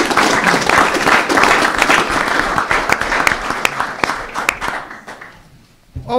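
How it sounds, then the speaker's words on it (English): Audience applause at a city council meeting, a loud, dense burst of clapping that fades out over several seconds and ends with a brief voice. "Mark, would you join everybody else in giving the city of DeKalb a round of applause?"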